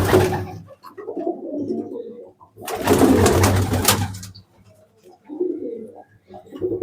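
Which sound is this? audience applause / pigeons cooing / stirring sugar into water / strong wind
pigeons cooing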